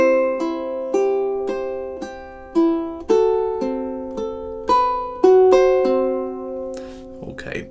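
A ukulele plays two measures of Ave Maria as a steady run of plucked notes and chords, each attack ringing clearly and decaying before the next, alone and close.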